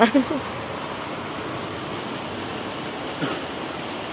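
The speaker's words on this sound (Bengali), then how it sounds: "ও বৃষ্টি পড়ছে" Rain falls outdoors in a steady, even wash of hiss, with a couple of brief louder bumps near the start and another around the three-second mark.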